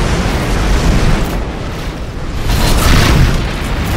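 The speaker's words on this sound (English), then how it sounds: "Missiles inbound." Missile explosions in a video game, heard as a continuous loud, booming roar of blasts that swells and rolls without pause.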